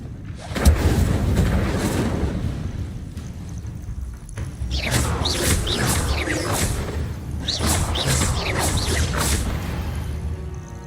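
An Incendio fire spell cast in Hogwarts Legacy sends out loud whooshing, crackling bursts of flame, with a short break near the middle before a second long fiery roar.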